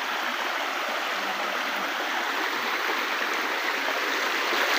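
A cool river flows in a steady, unbroken rush of water, close and even in level, with no voices over it.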